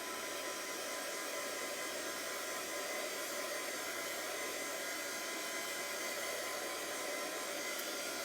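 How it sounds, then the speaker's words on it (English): A heat gun drying a mixed media painting gives a steady, loud, broadband whooshing roar that holds unchanged throughout, with no talk over it. "to dry this with the heat gun"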